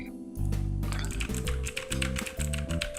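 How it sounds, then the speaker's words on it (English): Fast typing on a loud, clicky computer keyboard, with dense rapid key clacks up close over a steady low electrical hum. "is that one of those like clickety clack clack loud keyboards?"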